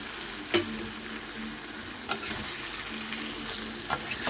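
Potatoes fry in a spice masala with a dense, constant sizzle, while occasional sharp scrapes of a spatula stirring the pan stand out above the hiss.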